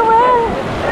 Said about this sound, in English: currently we are on the current of the water. Of Taguluan River